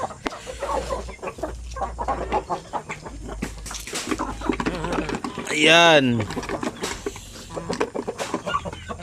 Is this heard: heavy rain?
no